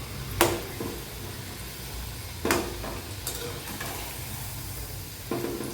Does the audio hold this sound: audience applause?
no